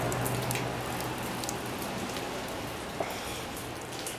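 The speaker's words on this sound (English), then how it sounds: "Rain's really been messing with us." Steady rain falls outside a house under kitchen renovation, a continuous dense hiss of drops on surfaces with a low constant hum beneath and a single faint knock near the end, no voices.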